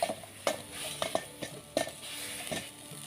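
Pounded shallots, dried chili and lemongrass with salt are stir-fried in a pan, a spatula scraping and tapping in uneven strokes over a light, close sizzle, with no talk.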